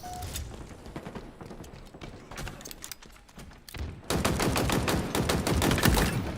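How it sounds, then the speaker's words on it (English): Rapid machine gun fire in a Halo video game, loud bursts of fast shots that thin out briefly midway, then resume in a dense, sustained volley. "Machine guns suit you, Spartan."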